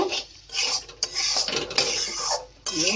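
Green chillies and sugar are mixed into the ghugni in a pan. Loud, continuous scraping and clattering of a spoon against the metal pan is heard up close, with brief pauses and no talking.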